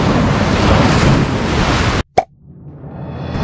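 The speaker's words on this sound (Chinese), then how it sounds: "你看了这若干的海浪过来，就像把所有的渔民要吞噬一样的感觉" Heavy sea surf rolls and crashes in a steady loud roar with wind noise, on a rough-sea coast where shellfish are gathered by hand, then cuts off abruptly and a quieter wash of water slowly builds back.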